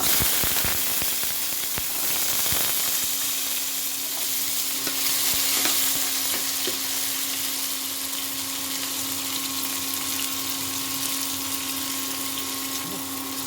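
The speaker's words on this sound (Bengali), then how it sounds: "এর মধ্যে আমি এখন কুমড়োগুলো ছোট করে কাটা কুমড়োগুলো দিয়ে দেবো" Small chopped pumpkin pieces fry in a pan with a steady, fairly loud sizzle throughout, opening with a few knocks and scrapes as they are stirred.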